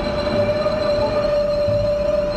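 A Class 455 electric train running in Train Simulator 2019 on the Portsmouth Direct Line, a steady loud rolling rumble with a sustained whining tone throughout, no breaks, no voices.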